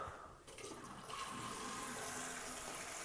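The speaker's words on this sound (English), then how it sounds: "So if I switch on the tap," Water runs steadily from a switched-on tap, a broad, loud splashing hiss that builds within the first second and holds, with no voices.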